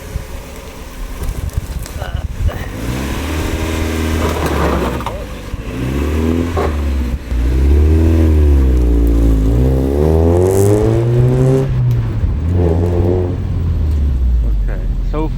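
A widebody Mazda Miata drives down a street, its engine revving up and down through several rising pulls, close and loud, with occasional talk over it.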